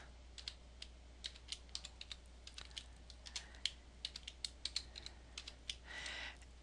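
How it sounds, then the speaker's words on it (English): Typing on a computer keyboard, a quiet stream of light, irregular key clicks close by over a low steady hum, ending in a brief faster flurry. "so I'm going to go ahead and type in science"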